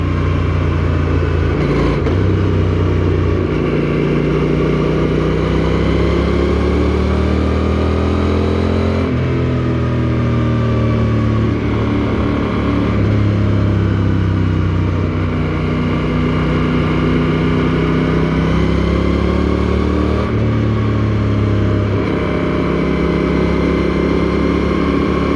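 A Honda Rebel 1100 cruiser motorcycle engine drones loudly and steadily while riding, its pitch rising and falling with shifts in speed, no voices present.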